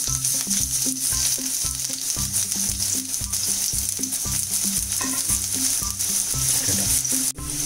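Chopped shallots sizzle steadily in hot coconut oil in a frying pan, a loud, continuous frying hiss with a regular scraping of stirring underneath, close to the pan and with no talk.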